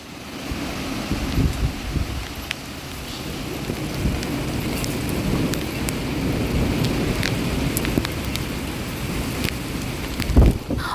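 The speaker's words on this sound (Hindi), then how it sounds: "ये देखिए आंधी आना शुरू हो गई है" Steady rush of wind and rain with a continuous broadband roar, low rumbling gusts underneath, and a louder thump near the end.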